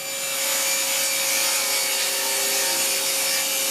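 A table saw ripping a 4.5-inch strip from a wooden board, a steady loud whining cut with a constant tone and no pauses, heard alone.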